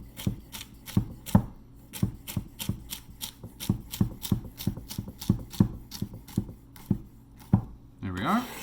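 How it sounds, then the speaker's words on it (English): Celery being diced with a knife on a cutting board for chickpea noodle soup: a steady run of about twenty crisp, close chops at an even rhythm, with a brief voice and rustle at the end. "Okay, dicing."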